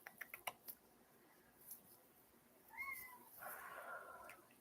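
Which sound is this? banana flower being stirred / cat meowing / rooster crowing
cat meowing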